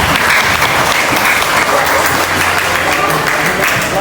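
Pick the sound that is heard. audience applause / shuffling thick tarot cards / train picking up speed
audience applause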